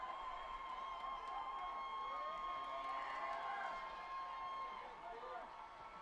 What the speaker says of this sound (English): the big crowd from Kentucky has something to cheer about